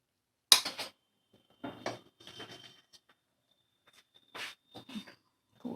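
Powdered spice being stirred into homemade tamarind pickle: a few faint, scattered clinks and soft scrapes of a spoon against a bowl, with quiet gaps between them.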